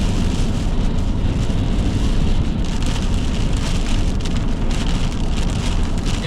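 Heavy rain pouring during a December storm at night, a dense, loud, steady hiss and patter of drops hitting surfaces, unbroken throughout.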